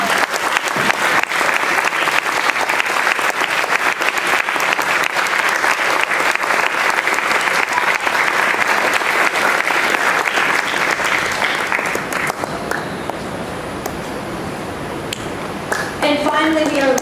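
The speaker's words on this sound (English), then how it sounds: "So will you please give a great big applause for Mrs. Brown." Audience applause at an Eagle Scout ceremony: dense, sustained clapping from a large crowd lasting about twelve seconds, then thinning out and fading to scattered claps.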